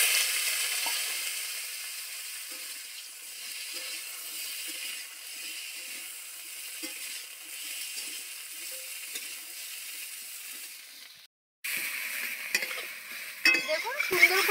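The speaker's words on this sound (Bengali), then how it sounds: "এবার কেটে রেখে দেওয়া শিমগুলোকে ভেজে নেব।" Chopped flat beans frying in hot oil in a kadai, a steady close sizzle with soft scraping stirs, a brief break, then louder stirring and sizzling.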